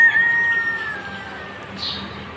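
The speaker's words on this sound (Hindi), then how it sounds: "ये जो हमें मुर्गे हैं ना, ये हमें उठाने में अहम किरदार अदा करते हैं" A rooster crows once, a thin, drawn-out call at moderate distance, over steady background hiss.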